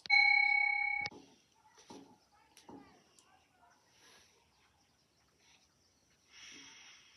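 A meditation bell at a school gives one clear, ringing tone that lasts about a second before stopping. Quiet follows, broken by faint scattered soft sounds.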